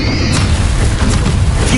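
A Confringo fire spell detonates during PS5 combat in Hogwarts Legacy, giving a loud, close, sustained roaring blast that fills the whole moment with dense rumbling noise and no voices.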